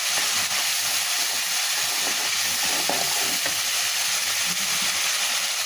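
Spice paste with tomato sauce fries and is stirred steadily in hot oil in a pan, giving a loud, continuous crackling sizzle with faint scraping from the stirring.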